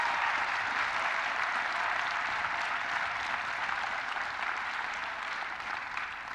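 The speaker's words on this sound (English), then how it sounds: "Graduates, please join me in applauding your families for everything that they did to make your graduation and today's celebration a success." Graduation commencement audience applauding, a dense steady roar of clapping from a large crowd that holds throughout and fades slightly at the end.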